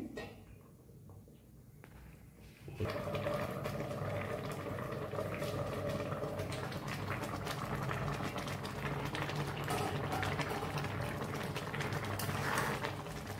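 A covered pot of Bengali phena bhat, rice cooked with vegetables in plain salted water, boils steadily. The close, dense bubbling and rumbling builds after a quieter start and keeps going.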